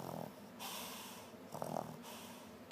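A doll's mechanical snoring plays close by, with several slow, rough breathing snorts that rise and fall at a moderate level.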